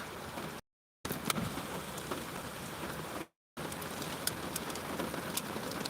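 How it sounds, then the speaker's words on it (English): Big, hefty raindrops fall steadily on a hot day, a dense outdoor patter with occasional sharper drop hits, fairly faint and continuous with two brief breaks, with no talk. "But them some big old raindrops."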